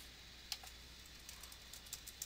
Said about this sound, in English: Here, let me just type it down here.